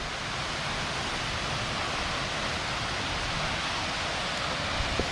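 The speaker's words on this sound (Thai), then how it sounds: "น้ำเป็นน้ำป่า น้ำตกป่านะครับผู้ชม" A forest waterfall roars with a steady, dense rush of falling water, continuous and close, with no voices over it.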